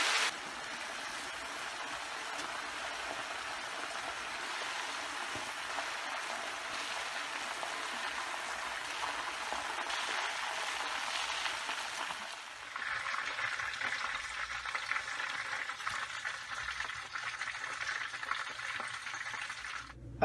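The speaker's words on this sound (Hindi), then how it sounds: "बस 2 मिनट करेंगे फ्राई।" BBQ chicken wings fry in a pan with a soft, continuous sizzle and hiss that steps up a little midway. The sound is quiet and steady, and nobody speaks.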